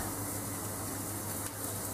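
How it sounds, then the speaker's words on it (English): A steak laid on a scorching-hot grill pan with no oil, giving a steady, even hiss of sizzling that carries on without a break. "you just take the steak, place it on the grill pan,"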